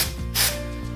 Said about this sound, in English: I like to spray this starting at the roots like this.